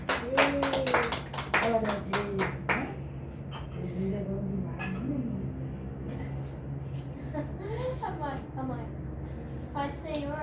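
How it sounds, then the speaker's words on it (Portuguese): A church congregation claps in brisk, rhythmic bursts that fade after a few seconds, followed by voices and scattered sounds over a steady low hum. "dá uma salva de palmas"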